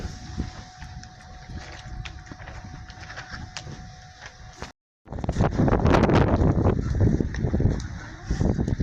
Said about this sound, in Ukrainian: Ну і ось ось такий вітруган